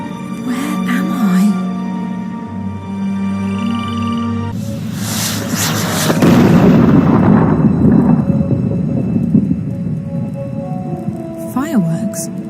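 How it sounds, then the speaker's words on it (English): Fireworks boom in the video game Dreamfall: The Longest Journey, a deep rumbling burst that swells and rolls mid-scene, layered under game music and a voice speaking. "Fireworks? Maybe they're celebrating something."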